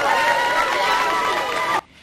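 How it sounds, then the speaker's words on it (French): Students cheer loudly at the Institut Lumumba as the head of government makes his entrance, a dense continuous roar of voices that cuts off abruptly near the end. "sous les acclamations nourries des élèves"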